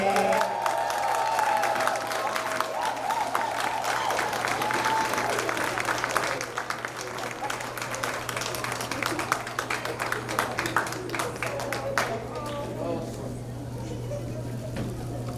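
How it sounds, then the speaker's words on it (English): Sustained applause and clapping from an audience at a reader's tea awards event, with scattered cheers and murmuring voices mixed in, fairly soft overall and thinning toward the end, over a steady low hum. "my hands hurt because I've been clapping so much"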